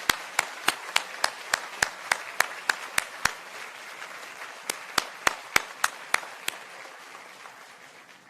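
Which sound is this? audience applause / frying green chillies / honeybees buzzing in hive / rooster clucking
audience applause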